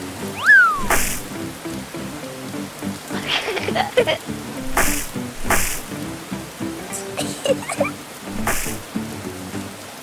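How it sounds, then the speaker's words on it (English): Rain patters steadily on a surface with scattered drops in a Peppa Pig cartoon, while brief animated squeaks and a cat-like meow pop up over the wet hiss. "The rain fell pitter-patter, forming big puddles all over the ground."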